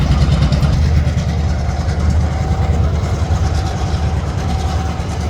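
A freight train of hoppers and tank cars idles near Sapperton, its engine giving a steady, loud low rumble with a faint sustained whine above it, constant throughout.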